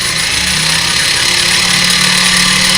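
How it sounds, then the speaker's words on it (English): A home sewing machine winds thread onto its bobbin with a loud, steady motor whir and rattling hum, close by and continuous without pause. "The bobbin's filling up."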